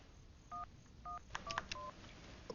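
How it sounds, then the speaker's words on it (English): Telephone keypad tones dialing a number, a short run of distinct beeps, the first few evenly spaced and the rest quicker, faint and clean over low hiss with nobody speaking. "After dialing the number of your choice, simply key in your personal security code."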